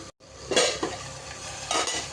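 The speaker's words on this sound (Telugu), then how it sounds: "కారం అంతా ఆయిల్లో ఉడికిపోవాలి, మంచిగా మగ్గాలి." Onions, green chilies and chili powder cooking in oil for Telangana-style doddu boddu karam, with a steady sizzle and a few stirring scrapes of a utensil against the pan, close and fairly loud, no talk.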